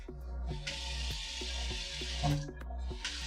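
Cold water runs steadily from a kitchen tap into a sink, a continuous close splashing rush with small clinks of dishes or a pot, and no talking.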